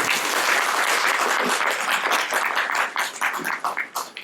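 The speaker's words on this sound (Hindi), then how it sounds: "जो लेके आए हैं उनके लिए जबरदस्त जोरदार तालियां दो" Loud, enthusiastic applause from an audience at a spiritual talk on mental stress, a dense wash of clapping that thins toward the end into separate claps.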